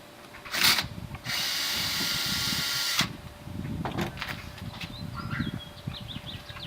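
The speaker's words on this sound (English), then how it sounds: "I drill a clearance hole through the side of the drum" A power drill gives a short burst, then bores a clearance hole through the side of a plastic poly drum steadily for about two seconds before stopping; birds chirp faintly afterward.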